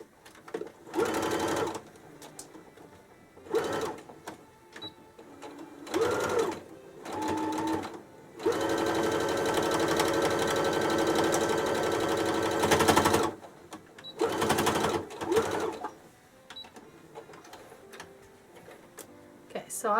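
Sewing machine stitching a quilted rag bag, running in several short bursts and one longer steady run of about five seconds, with someone talking in the pauses between stitching.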